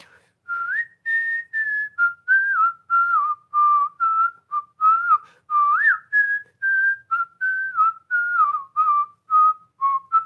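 A melodic tune whistled through a jaw harp, short repeated notes sliding up and down, with a slightly twangy, buzzing edge, played alone and close.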